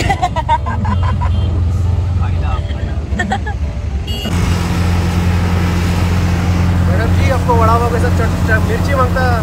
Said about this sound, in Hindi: अभी हम लोग ट्रैफिक में फंस गए, बहुत ट्रैफिक है